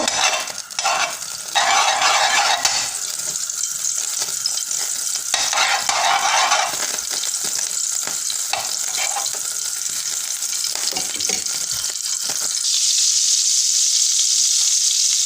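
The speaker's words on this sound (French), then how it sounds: "Dans une poêle contenant un filet d'huile d'olive, j'ajoute une petite noisette de beurre." Butter sizzles in a pan with a little olive oil for sole meunière, a steady loud frying hiss that pulses and swells throughout, with occasional soft scrapes.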